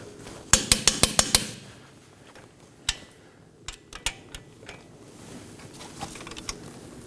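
Torque wrench tightening hub bolts to 74 foot-pounds on a 2018-2024 Chevrolet Equinox, a quick burst of sharp metallic clicks followed by scattered single clicks and taps, close and fairly quiet.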